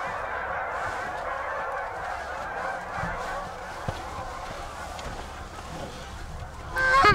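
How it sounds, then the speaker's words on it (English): Geese honk among hunting decoys on an overcast Montana morning, a steady mix of calls carrying from a middle distance, with no talking. "There's a goose that landed in the decoys"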